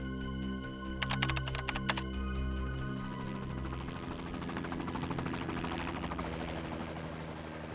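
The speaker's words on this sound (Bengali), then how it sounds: "আমারও তো তাই মনে হচ্ছে, এটা হেলিকপ্টারেরই আওয়াজ।" A helicopter drones and thumps in a steady, moderately loud rhythm, with sharp rapid clicks and tapping sounds over the top early on and a rising roar toward the end.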